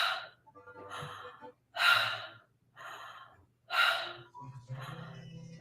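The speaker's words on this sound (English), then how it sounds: "Breathing in, breathing out." A person breathes deeply in and out through the mouth during a breathing exercise, a slow series of loud audible inhales and exhales separated by short pauses.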